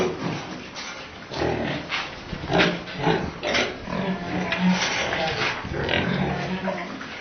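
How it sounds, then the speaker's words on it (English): Several pigs grunt and snort in a rough, irregular run of low calls at close range, with faint voices mixed into the background. "Pigs are pigs."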